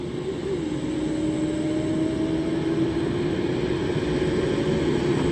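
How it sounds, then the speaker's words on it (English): A jumbo jet at East Midlands Airport gives a steady, loud roar that holds evenly throughout, with a faint whine gliding slowly across it. "that's a jumbo jet, my boy"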